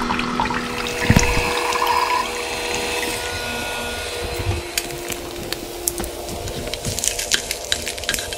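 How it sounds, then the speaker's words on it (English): A home coffee machine pours coffee as a steady liquid stream with a pump-like hum, joined by a few brief clicks and knocks near the start and later on. "It takes like 5 minutes for it to actually start pouring the coffee."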